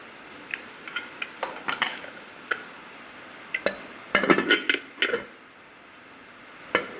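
A spoon stirs dal in a metal pot, giving a scatter of light clinks and scrapes at an uneven rhythm, with a denser cluster midway and quiet stretches between, no talking.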